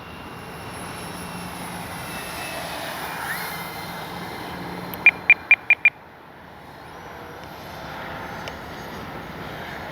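A Freewing AL-37 RC model jet in flight gives a steady, moderately faint engine whine and rush, with a quick burst of sharp clicks partway through.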